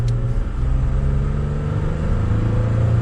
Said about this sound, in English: We'll give it a little bit of gas.